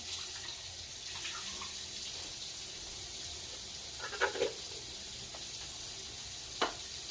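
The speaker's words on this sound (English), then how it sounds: "I'm going to put in our white beans here. We're going to drain them." Canned white beans being drained for chili, a steady rush of water running into a sink with a couple of brief clattering knocks near the end, no talking.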